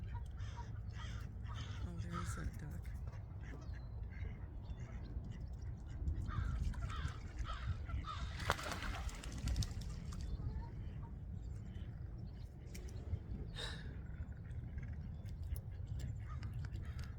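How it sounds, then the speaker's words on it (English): A crow or raven perched out on a rock formation by a lake caws repeatedly at a moderate distance, its calls breaking through steady outdoor wind and ambient noise. "There's a crow or a raven out in the middle of this rock formation. And he's a very opinionated raven."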